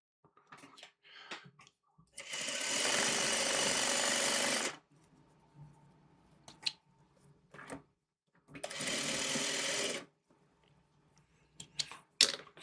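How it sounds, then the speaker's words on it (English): A sewing machine runs in two steady bursts of about two seconds each as quilt pieces are stitched together, separated by soft clicks and fabric handling. "So I can sew this together."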